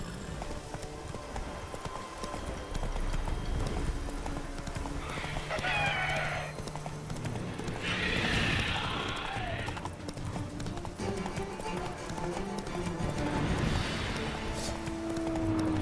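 Roach, a horse in The Witcher 3, gallops with quick, continuous hoofbeats under game music and ambience, with a whinny and a few short spoken lines breaking in along the way.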